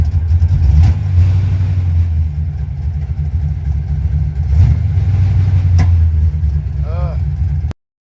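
A car engine fitted with an Edelbrock 1405 carburetor idles with a steady low rumble, with a brief rev blip partway through, before cutting off abruptly at the end.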